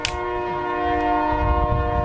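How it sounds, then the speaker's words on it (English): A train horn blares in a sustained, loud, steady chord over the rumble of a passing train, holding for about two seconds with no voices. "Here comes the train."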